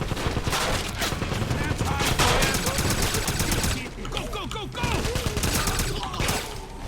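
StG assault rifle gunfire in the shooter Wolfenstein, dense rapid bursts throughout with battle noise and overlapping voices, briefly easing off before heavy firing resumes.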